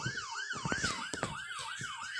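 An ambulance siren at a robbery scene wails in a repeating rising and falling pattern, loud and fairly near, with passing traffic and short knocks underneath.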